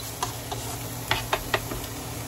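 Cabbage for cabbage rice tossed and stirred in a pan, a few scraping, clacking stirs over a steady low sizzle of frying, with no voices.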